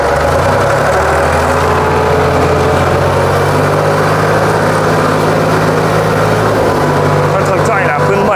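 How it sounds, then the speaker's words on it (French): A Ford 4110 tractor labours while ploughing, its engine holding a steady low, heavy drone throughout, with people talking over it. "Le tracteur, il a un peu de mal."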